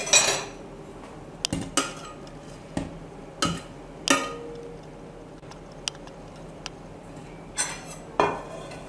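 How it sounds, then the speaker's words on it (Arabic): Ground meat mixed in a bowl with parsley, onion and salty cheese for stuffed artichokes, heard as sparse, close clinks and scrapes of a utensil against the dish with quiet pauses between them. "المعدنوس والبصل والجبن هاني كمل خلطتهم في وسط اكل اللحم"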